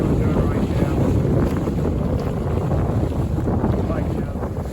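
Strong wind buffets the microphone aboard a Buccaneer 18 sailboat out on open water, a dense, continuous roar of gusts and rushing water that stays loud throughout.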